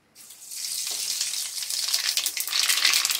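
Whole spices for tempering hit hot oil with a sudden hiss that swells into a bright, crackling sizzle, close and growing louder over a few seconds.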